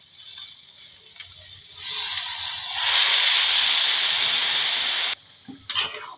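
Water poured into a hot pan of fish-head muri ghonto rice, bursting into a loud, rising steamy hiss that holds for a few seconds, then stops abruptly, followed by a few utensil knocks.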